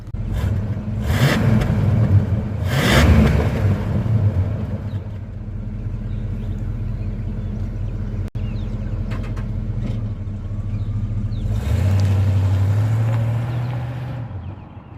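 A Chevy C10 square body pickup with a 454 V8 on its factory exhaust runs close by, a steady muted rumble broken by a few brief throttle blips near the start and a longer rev toward the end.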